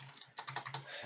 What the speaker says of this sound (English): hold 2 on your keyboard and double click